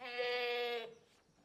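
An old goat gives one loud, close, drawn-out nasal bleat, then falls quiet.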